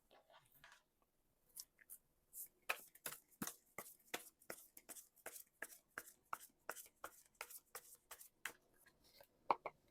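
Tarot cards are shuffled close by but quietly, making a run of soft, crisp flicks and riffles that repeat at an uneven but steady pace over a near-silent background.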